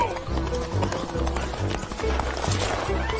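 Horse hooves clip-clop in a steady running rhythm beneath a children's alphabet phonics song, with the music and a voice over it; no clear neigh stands out.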